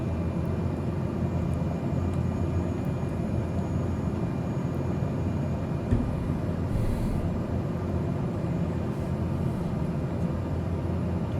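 Cessna 208B Grand Caravan single-engine turboprop in a flight simulator, approaching a runway near Niagara Falls: a steady, moderate engine drone throughout, with no talking.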